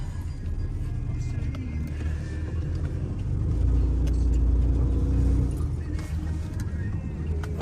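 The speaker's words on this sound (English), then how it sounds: "So we'll go ahead and get our test drive going." A 1996 Ford Ranger XLT pickup truck idling and pulling off for a test drive, a steady low engine rumble that swells slightly in the middle as it moves, heard from inside the cab without speech.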